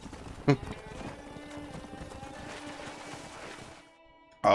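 A horse gallops in the Red Dead Redemption video game, a steady run of hoofbeats under in-game ambience, moderately loud, with a brief sharp sound near the start and a sudden cutoff before a loud burst at the end.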